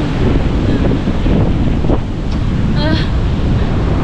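Wind buffets the microphone beside sea waves rolling onto a nearby shore, a loud, steady rushing roar with a brief quieter moment midway.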